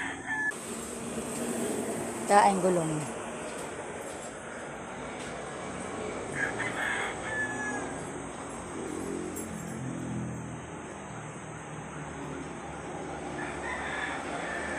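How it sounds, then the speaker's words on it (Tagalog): Chickens clucking with a rooster crowing now and then at a rural yard stacked with tyres, fairly distant over outdoor background noise, with a brief voice speaking. "may mga manok dito"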